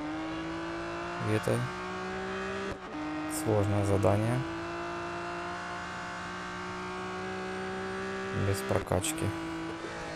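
The engine of a 1970 Porsche 917K race car in Real Racing 3 drones steadily with a few short rising revs, under someone talking over it.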